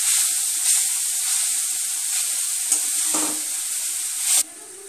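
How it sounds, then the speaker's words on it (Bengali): Milk poured into a hot pan of cooking grated carrots for carrot halwa sends up a loud, steady sizzle and hiss, with a brief stirring sound before the sizzle drops to a quieter simmer at the end. "এরপর আমি দুধটা দিয়ে দিলাম"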